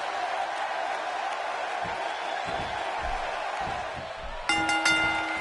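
A dense, steady roar from a large arena crowd in a WWE wrestling video game holds throughout, with a brighter, louder burst near the end.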